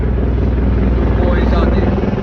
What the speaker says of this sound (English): They're gonna fly right over you with them helicopters